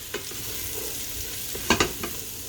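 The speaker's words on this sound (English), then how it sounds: "Then add all the spices and stir them in to toast them." Onions and spices sizzle gently in a pan for an eggplant gratin sauce, with a soft continuous fry broken by a few sharper scraping stirs near the end.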